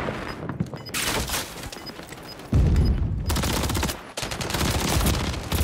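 Heavy automatic gunfire in Call of Duty MW3, loud sustained bursts of rapid shots broken by short pauses, with no voices.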